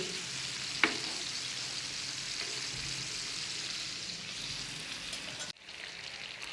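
Chicken with masala sizzles on a tawa in a steady, moderate hiss, with a brief clatter early on and a short dip before the frying resumes.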